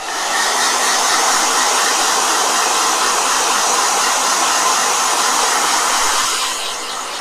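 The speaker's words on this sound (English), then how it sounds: "Blow dryer." A hair blow dryer runs continuously to dry a watercolor painting, a loud, close, steady whooshing roar that holds for several seconds and eases slightly at the end.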